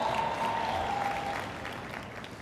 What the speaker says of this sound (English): You can applaud for that.